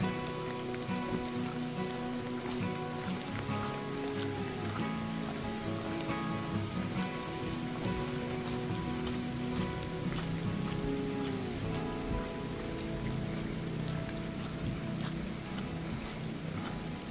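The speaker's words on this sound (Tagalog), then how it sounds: "Ang ulan." Rain falls steadily on a surface, a constant dense patter at even loudness throughout, with a faint tonal hum running beneath it.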